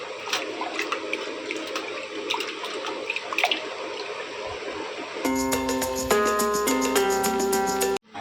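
Pomfret fish is rinsed under running water, a steady splashing gush from a tap that shifts partway through to a fuller, more resonant pouring stream, with no talking.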